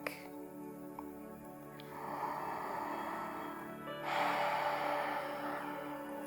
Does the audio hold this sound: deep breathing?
yes